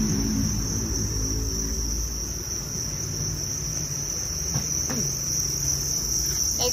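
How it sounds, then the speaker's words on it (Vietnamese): Dense, steady chorus of crickets chirping at a cricket breeding farm, a loud continuous trill with no voices. "Đây các bác xem dế."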